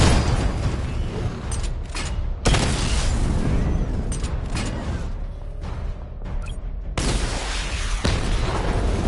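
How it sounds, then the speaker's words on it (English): Missile barrage explosions in the video game Batman Arkham Knight, long loud rumbling booms with mechanical clanks in between, dense and continuous. "Missile barrage level 1 ready."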